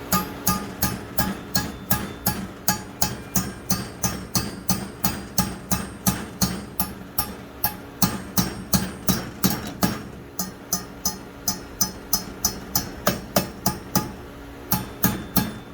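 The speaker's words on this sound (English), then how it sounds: "you're just going to take a hammer, and you're just going to gently" Steady, rhythmic hammer blows ring out on metal of a mini barbecue pit welding kit, dozens of sharp close strikes at an even pace with a faint engine hum underneath.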